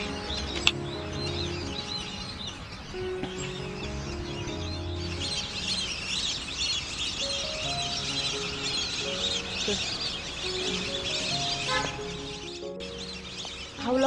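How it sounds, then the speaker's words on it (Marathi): Many birds chirp and twitter around a tree beside a lotus pond, a dense steady chorus at a moderate distance over light music-like tones. "तिकडे पक्ष्यांचा इतका किलबिलाट ऐकू येतोय."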